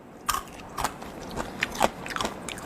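Fried potato chips are bitten and chewed up close, with several sharp crunches spaced through a quiet background.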